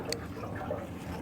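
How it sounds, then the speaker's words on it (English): Water drains steadily from an open spigot gate valve with a worn washer, a soft continuous trickle and splash at close range with no voices. "still got water draining"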